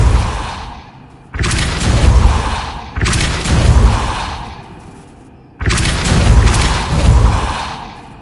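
Three heavy blast impacts from the Depulso spell in Hogwarts Legacy, each a loud broadband boom that decays over a second or two, evenly spaced with brief quieter gaps between.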